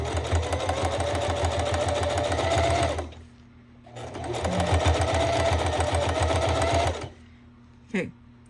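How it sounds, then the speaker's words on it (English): Sewing machine stitching a fabric Christmas present, running in two steady loud bursts of rapid mechanical whirring separated by a short pause, with a brief clunk near the end. "I'm going to go ahead and finish sewing around this"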